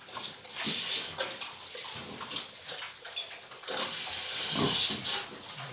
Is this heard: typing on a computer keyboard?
no